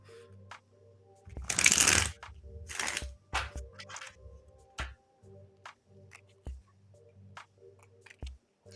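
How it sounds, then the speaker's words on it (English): Tarot cards shuffled by hand, one long riffle followed by a series of short snapping card sounds and taps, close up and otherwise quiet. "Let me get a nice shuffle going."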